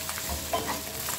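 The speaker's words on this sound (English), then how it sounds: "Adding these, stir them around." Carrots and potatoes being stirred in a cooking pot for a vegan broad bean brown stew, a soft scraping and sizzling close by, brief and quiet with no talk.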